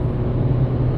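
An Audi A5 2.0T Quattro accelerates hard from highway speed, its engine a loud, steady low drone heard from inside the car.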